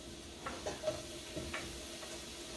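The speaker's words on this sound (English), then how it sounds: "I'm just going to go ahead and add all these ingredients to this pot, and I'm just going to saute it for like a minute or two" Ingredients for vegan collard greens sautéing in a pot give a quiet, steady sizzle, broken by a few soft scrapes and stirring clinks from a spoon.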